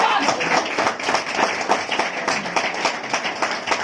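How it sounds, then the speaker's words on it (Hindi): Audience at a business presentation claps and hoots in response, a dense, steady wash of applause with rhythmic clapping and shouts throughout, fairly close and loud. "एक बार अपने लिए जोरदार ताली, एक बार हुटिंग के साथ"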